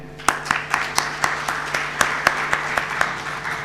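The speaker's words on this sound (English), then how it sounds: "while we are giving an applause to all the team members doing it, Martin and the team of Integro, thank you v" An audience at a Bengaluru business summit claps for the team members, a steady rhythmic beat of claps in unison, about four per second, over a soft background murmur.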